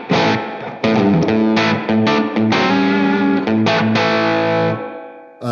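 Distorted electric guitar chords ring through a spring reverb from a Wampler Catacombs delay/reverb pedal, loud and sustained with a springy wobble, several strummed chords in a row before the tail fades out.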